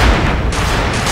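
A rocket barrage fires in C&C Generals, a dense, loud burst of overlapping artillery booms and blasts packed into about a second.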